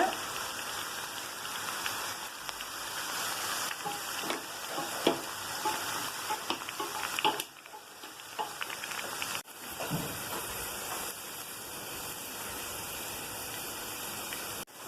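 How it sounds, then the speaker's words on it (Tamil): Fish pieces for a fish dum biryani fry crisp in hot oil over a high flame, a steady close sizzle and crackle that briefly dips partway through, then carries on. "ஹை ஃப்ளேமில் வச்சு வறுத்துக்கோங்க. நல்லா கிறிஸ்பியாக வேணும் நமக்கு"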